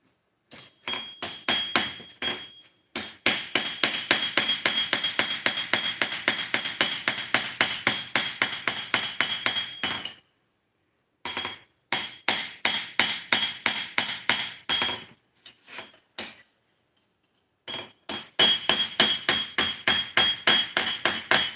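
Rapid steady hammer blows drive a handmade chisel into hot steel, sharp ringing metallic strikes in quick bursts separated by short pauses, close and loud with no talk.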